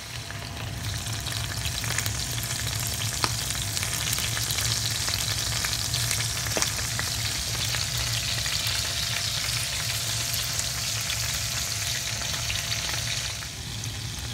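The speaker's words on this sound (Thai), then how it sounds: "ในระหว่างที่ยายทอดไส้กรอกนะคะ" Danish sausages frying on low heat in a pan, a dense, steady crackling sizzle that holds evenly throughout with only an occasional faint tick, close by and without any talk.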